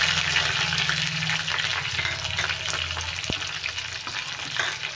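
Green chillies and mustard seeds crackle in hot oil for a tempering, a close, steady broadband sizzle lasting throughout with a faint low hum beneath and one brief sharp pop partway through.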